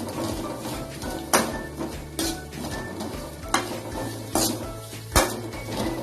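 Finely chopped coconut roasting in ghee in a pan, a low sizzle punctuated by regular loud metal clanks and scrapes of a spoon against the pan, roughly one every second.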